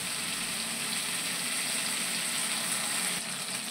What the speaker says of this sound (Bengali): দেখো তেল কেমন ছেড়ে দিয়েছে, মশলা কষানো হয়ে গেছে